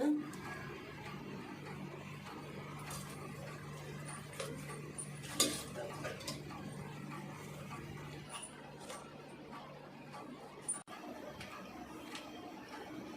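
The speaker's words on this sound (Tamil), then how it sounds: "எல்லாத்தையும் மிக்ஸ் பண்ணி வச்சுக்கலாம்" A spoon scrapes and knocks against a metal pot of drumstick leaf soup in irregular strokes, with occasional sharper clinks, close up and fairly quiet.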